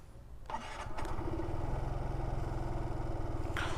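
Aprilia SXR 160 scooter engine firing up after a short quiet moment, then settling into a steady, close, loud idle with a continuous low throb and occasional rattle on top.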